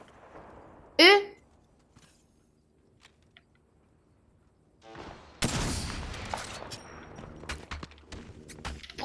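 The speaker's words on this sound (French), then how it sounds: "Je suis sous les tirs." Gunfire in the Apex Legends video game: a sharp burst near the start, quiet scattered pops, then a dense crackling volley of rapid shots and impacts that runs to the end while a player talks.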